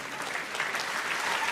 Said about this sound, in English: Round of applause for Psychic Danielle.